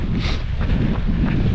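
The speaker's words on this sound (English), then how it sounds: "Just about to turn due north and straight into the wind" Wind buffeting the microphone of a runner turning due north into a headwind on a cold Texas January marathon training run: a loud, steady, low roar that fills the short stretch.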